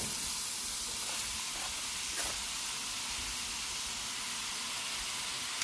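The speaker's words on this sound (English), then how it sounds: "And we're going to cook until the onions become translucent." Onions frying in hot olive oil in a small pan give a steady, soft hiss and sizzle that holds evenly throughout, with a few faint crackles and no voices.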